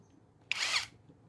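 A Tecepo cordless impact driver running in reverse, giving one short whirring burst of about a third of a second in a quiet room.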